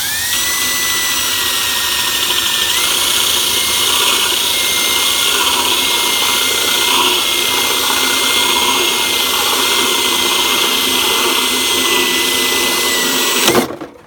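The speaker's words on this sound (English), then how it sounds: "I sort of center my Forstner bit," A power drill with a Forstner bit, run in reverse, cuts through the lid of an empty can, a loud continuous high-pitched whine with a metallic scraping edge that holds steady for about thirteen seconds before cutting off.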